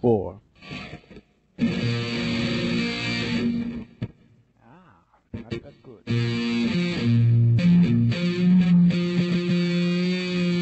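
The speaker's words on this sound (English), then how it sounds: "A lot of distortion, maybe a little too much." A heavily distorted, buzzy recording with harsh saturated tones, cutting in and out in bursts before settling into a loud continuous stretch.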